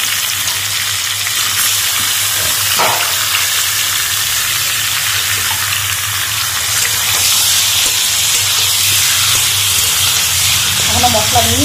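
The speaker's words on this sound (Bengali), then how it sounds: "আমি মাংসটা ভেজে তারপর রান্না করবো" Meat fries with onion and tomato in a pan, giving a loud, continuous close-up sizzle with occasional stirring scrapes and bubbling throughout.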